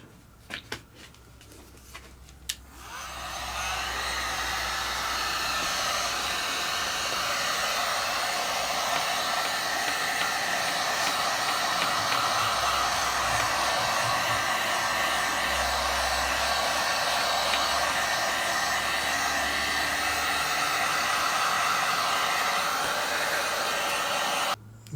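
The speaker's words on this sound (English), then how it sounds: "So I'm just going to give it the hairdryer treatment." A hair dryer drying paint on a model Fw 190 aircraft switches on after a few seconds of handling noise and blows with a steady, loud whooshing roar nearby, then cuts off at the end.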